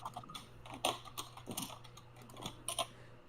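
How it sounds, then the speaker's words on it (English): Computer keyboard typing, a run of quick uneven keystrokes with brief pauses over a low steady hum, fairly close and moderately loud, no talk. "Your keyboard isn't angry enough, BM."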